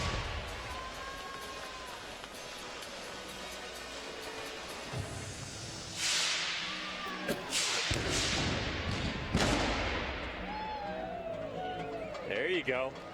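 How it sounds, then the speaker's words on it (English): Indoor fireworks going off at the Vegas Shootdown, a live event, with sharp whip-like cracks and thumping bursts in several quick clusters, loud against a steady crowd and voices talking throughout. "Wouldn't be Vegas without fireworks."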